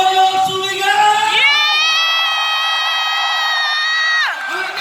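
An audience at a motivational talk event stands and shouts, a loud sustained crowd roar with whoops and cheers that swells and holds for several seconds, with a few voices calling over it.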